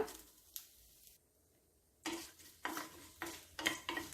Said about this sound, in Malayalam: ചൂടായ വെളിച്ചെണ്ണയിലേക്ക് നമുക്ക് കടുക് ഇട്ട് കൊടുക്കാം